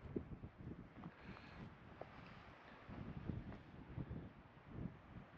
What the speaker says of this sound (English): this is the wind, of course. We got wind.